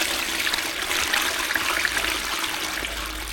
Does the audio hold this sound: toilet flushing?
yes